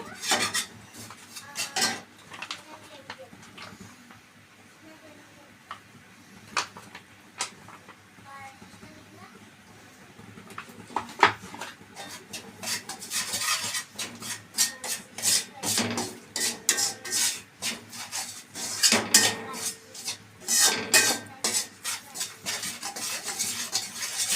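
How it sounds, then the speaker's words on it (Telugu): Ingredients fry in ghee in a pan, heard as a steady scraping and stirring clatter of a utensil against the metal, growing busier and louder in the second half. "దీంట్లో నెయ్యి వేసుకుంటూ వేయించుకోండి"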